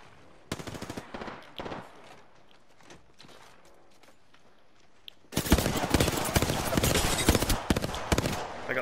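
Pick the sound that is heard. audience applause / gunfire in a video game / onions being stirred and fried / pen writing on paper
gunfire in a video game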